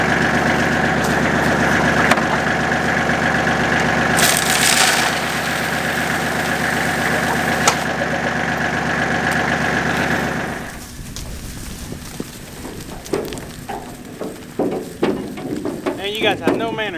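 A tractor engine idles on a goat farm with a steady, close rumble for about ten seconds. It then drops away, leaving quieter rustling and scattered short sounds.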